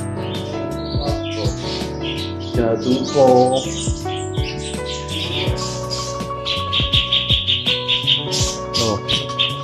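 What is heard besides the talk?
captive breeding birds chirping in aviary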